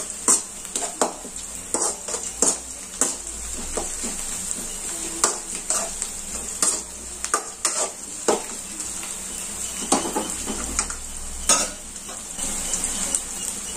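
Shallots stirred and fried in a pan for a country chicken gravy: a steady sizzle runs throughout, broken by frequent scraping strokes of the spoon against the pan at an uneven rhythm, close and fairly loud, with no talking.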